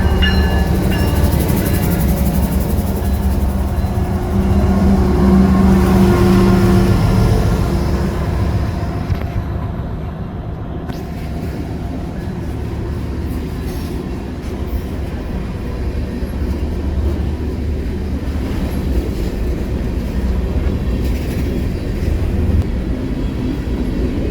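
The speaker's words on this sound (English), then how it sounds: "This one being a grain train with a BNSF KCS CN trio." A freight grain train led by a BNSF, KCS and CN locomotive trio rumbles past close by, loud and continuous, with steady low-frequency roar and rolling clatter throughout, no voices.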